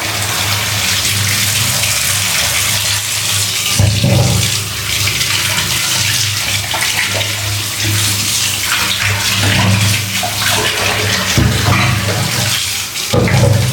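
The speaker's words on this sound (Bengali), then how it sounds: "প্রথমে গরম জলগুলো ফেলে দিই।" Hot water is poured out of a pot of boiled eggs into a sink in a home kitchen, a loud continuous gushing splash lasting several seconds with brief surges and no talking.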